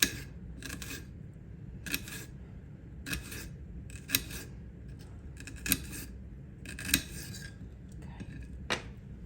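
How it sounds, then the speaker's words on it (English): Knife slicing onion on a cutting board for a watermelon feta salad, a series of sharp crisp chops in an irregular rhythm, close and fairly quiet, with no speech. "Let me cut some more of that onion up a little bit."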